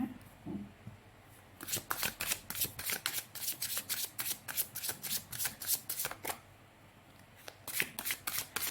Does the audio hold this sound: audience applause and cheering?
no